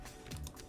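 A few quick keystrokes on a computer keyboard while working in AutoCAD, a brief, soft cluster of clicks close to the mic with no talking.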